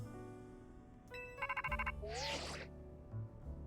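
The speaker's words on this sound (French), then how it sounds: "Allô? Monsieur Mousquat?" A phone rings inside a Pokemon Z-A video game: a bright electronic ringtone with quick chiming pulses and a warbling sweep, set over quiet game background music.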